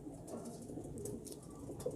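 A female pigeon coos softly in low, gurgling phrases close by, faint and intermittent against a quiet background with light rustling.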